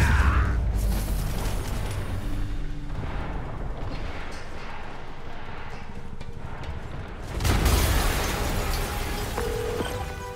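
A deep explosion rumbles through a Spider-Man Remastered PC game scene with a heavy low-frequency burst near the end over a steady background roar, with no talk.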